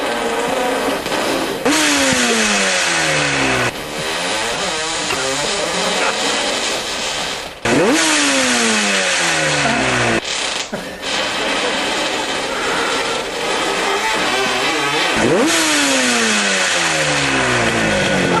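Motorcycle engines revving hard in repeated bursts, one bike apparently in need of a tune-up, each rev rising and falling loudly and close, with faint talk mixed underneath.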